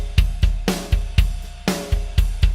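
EZdrummer drums keep a steady beat of kick and snare with the pattern moved onto the ride cymbal, its ping ringing over each hit, loud and clear with no one speaking.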